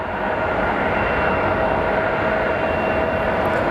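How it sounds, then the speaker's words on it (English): An Alaska Airlines Embraer 175 regional jet, operated by SkyWest, arriving at Sky Harbor Airport: a steady, loud broadband jet roar with a faint engine whine holding evenly throughout. "we have our Alaska Airlines operated by SkyWest coming in from Boise. It's an Embraer 175."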